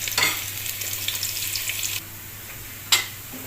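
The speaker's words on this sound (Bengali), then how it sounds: "রসুন অ্যাড করলাম, রসুনটা এখন তো ফ্রাই করুন।" Garlic fries in oil in a home kitchen pan, a soft sizzle with stirring scrapes that drops off abruptly partway through, followed by a single sharp clink; no one speaks.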